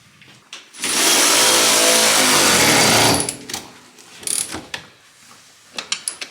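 Ratchet wrench tightening bolts on Honda CR-X brake lines, a loud rapid clicking burst lasting about two seconds, followed by scattered tool clinks and faint ratchet clicks up close.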